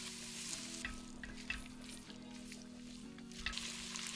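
Onions fry in a heavy-bottomed pot for mutton biryani, a soft, distant sizzle over a steady low hum, broken by a few faint stirring knocks.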